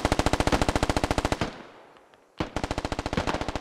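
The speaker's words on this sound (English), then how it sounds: "Rounds flying in all directions." Rapid automatic gunfire from a rifle in the military shooter game Squad, fast regular bursts, a brief pause for a trailing echo, then another sustained burst, loud and close.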